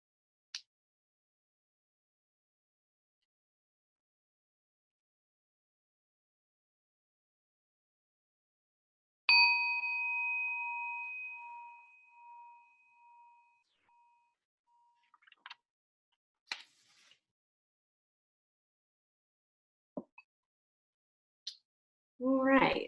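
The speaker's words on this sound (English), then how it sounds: "in a few seconds, I will ring the bell" A meditation bell struck once to close a session, ringing out clearly in near silence and fading slowly over several seconds, followed by a few faint, scattered small noises.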